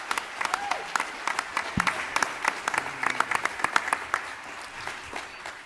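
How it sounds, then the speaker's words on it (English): An audience at a Star Wars collecting presentation claps, a dense, close round of applause that is lively at first and gradually thins toward the end. "Please give them a warm round of applause."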